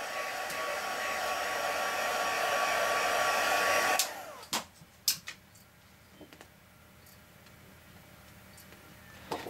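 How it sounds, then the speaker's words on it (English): A heat gun blows hot air steadily for about four seconds, then cuts off, leaving a few light knocks and taps of crafting work on a gift box. "You mustn't have it on the high setting when you're using the heat gun"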